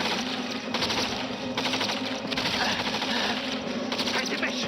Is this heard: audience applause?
no